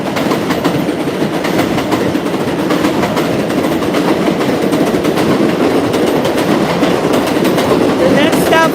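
Coney Island bound R160 subway train passing at an elevated Avenue X station on the F line, a steady close rumble with rhythmic wheel clatter and a brief high squeal near the end.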